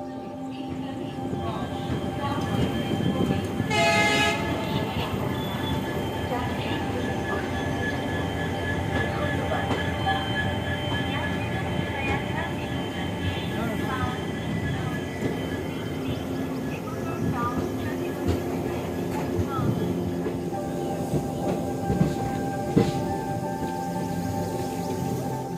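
A train rolls into New Jalpaiguri station on a morning run between Azimganj and Guwahati, a steady loud rumble of wheels on track with clanking car noise throughout and a brief squeal, people talking faintly underneath.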